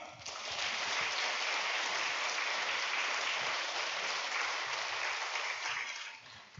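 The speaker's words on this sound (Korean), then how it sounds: "목사님 나오셔서 말씀 전하실 터인데 큰 박수로 모시겠습니다" A church congregation claps in steady, dense applause to welcome the elder pastor to the pulpit at a Sunday noon worship service, loud and even throughout before tapering off at the end.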